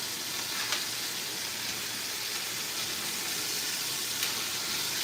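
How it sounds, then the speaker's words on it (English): Meat sears in a hot pan with a steady, loud sizzle and crackling hiss, close and continuous with occasional stirring, no voices. "now we've got our meat searing"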